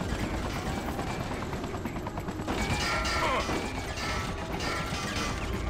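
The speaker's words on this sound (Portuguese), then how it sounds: "Ih, um helicóptero aqui!" A helicopter in the snowy Freedom Fighters video game, a loud steady thudding rotor churn mixed with clanking mechanical noise and crashes from the battle around it.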